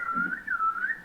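Students whistling together in an anatomy class, a steady wavering tone rising and falling over a second, moderately faint with no talk.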